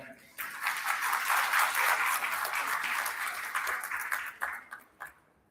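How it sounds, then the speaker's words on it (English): A conference hall audience of delegates breaks into a warm round of applause, dense steady clapping that swells quickly, holds for several seconds, then thins out to a few scattered claps. "Let's give a warm round of applause to them."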